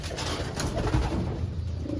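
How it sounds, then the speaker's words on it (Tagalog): Racing pigeons coo softly nearby after being released, low throaty calls overlapping in a steady murmur. "bilangin natin yung mga ibon natin na pinakawalan kanina"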